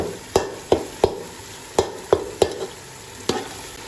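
Dried coriander paste stirred into a frying masala for chicken with pumpkin: a soft sizzle under seven or eight crisp, evenly spaced spoon knocks and scrapes against the pot, close and loud, with no talk.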